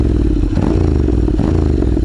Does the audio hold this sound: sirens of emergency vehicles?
no